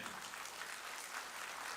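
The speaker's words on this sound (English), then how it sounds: "Please stand up and give a big round of applause for my Chief Minister, Honorable Sri Naveen Patnaik." An audience applauding at an academic meet on technical and professional education, a steady wash of clapping from a crowd, fairly faint and distant, with no break.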